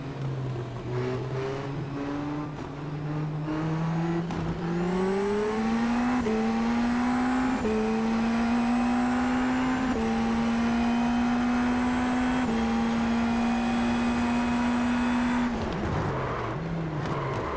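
Dallara IL-15 Indy NXT race cars in a video game roll toward a start at Red Bull Ring, a loud continuous engine drone climbing in pitch and then holding steady before easing off near the end.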